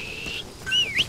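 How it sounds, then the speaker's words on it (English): A whistle calls a horse in the video game Metal Gear Solid 5, heard as a short rising whistle after a fainter steady tone, close and clear over quiet game ambience. "give my horse a little whistle. Like, hey horse!"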